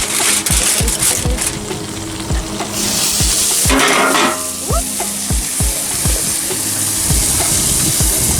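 A hamburger patty frying in a pan that already holds hamburger grease: loud, steady sizzling and crackling close up, with repeated scraping or prodding taps of a utensil throughout and no speech.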